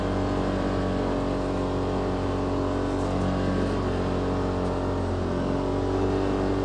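A 2018 Polaris RZR XP Turbo runs in low gear on a snowy trail, giving a steady, dense engine drone with no obvious change in pitch, and no one speaks over it.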